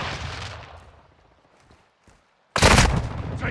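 Gunfire in Call of Duty: Modern Warfare II, a loud burst of shots at the start that decays into scattered faint cracks, a brief near-silence, then a sudden heavy close volley.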